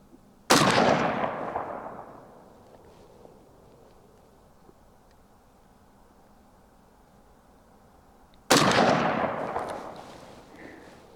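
Two loud rifle shots from a Mini-14 or AR-15 with wood or synthetic stock, outdoors at a target range, about eight seconds apart, each a sharp crack with a long echoing decay and quiet wind-like background between.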